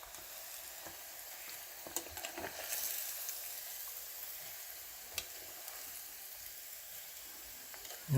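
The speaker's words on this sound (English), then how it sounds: "these have been frying for another minute" Pork belly pieces frying in hot oil for crispy Thai-style pork, giving a steady close sizzle and crackle throughout, with a brief louder clatter at the very end.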